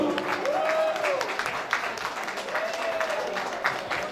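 Applause rises for an honoree walking to the podium at a Florida ceremony honoring women of distinction, a steady crowd clapping throughout with a few tonal sounds drifting over it.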